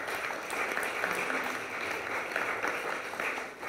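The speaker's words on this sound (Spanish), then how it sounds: "Un aplauso para Leida, por favor, bienvenida." Steady audience applause welcoming a speaker at a talk on green living and sustainability, a continuous dense patter of many hands at even loudness throughout, with no speech over it.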